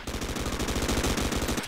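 Rapid Uzi fire in the co-op shooter Sven Co-op, a continuous fast burst of rattling shots, loud and close, lasting under two seconds.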